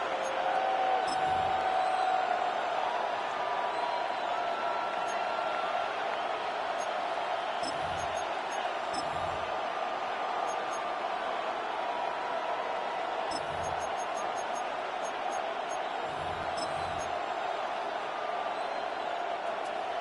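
Stadium crowd noise in the Madden 26 football game rolls on steadily through the whole stretch, a loud continuous roar with a few brief surges, with announcer commentary heard over it.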